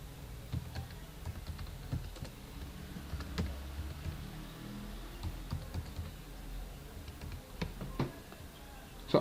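Keys clatter on a computer keyboard in quick, irregular bursts of taps with short pauses between, close and fairly quiet against a faint room hum.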